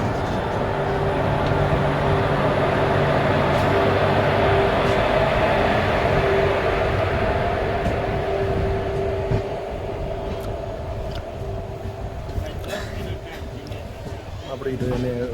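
A train pulling out of Rajkot Junction makes a steady rumbling roll with a faint tonal whine. Light clicks and clatter build toward the end, heard from on board.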